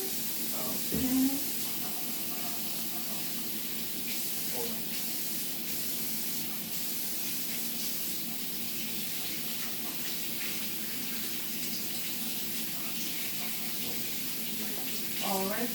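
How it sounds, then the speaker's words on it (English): Tap water runs steadily into a kitchen sink as tomatoes are washed, a soft continuous hiss and splash with brief handling noises near the start. "once we've washed our tomatoes, we're going to take care of our lettuce"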